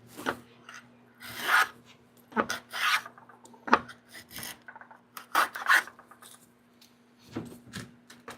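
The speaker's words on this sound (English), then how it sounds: "When you're planing, you really exert a lot of force." A hand plane is pushed along wood on a workbench in a series of separate rasping strokes, each a short harsh shave, irregular in spacing with quiet gaps between them, close by.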